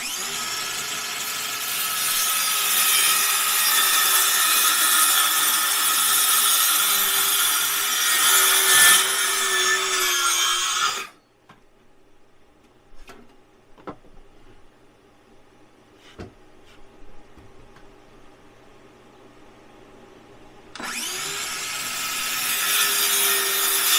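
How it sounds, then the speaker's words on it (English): Small hand saw ripping a board during a La-Z-Boy recliner repair, loud steady rasping strokes for about eleven seconds, a quiet pause with faint knocks, then sawing resumes near the end. "I'll rip this with my little saw"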